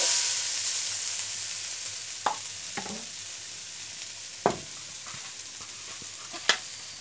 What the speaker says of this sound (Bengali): আমি এই ভাজাগুলো ভাজিয়ে নেবো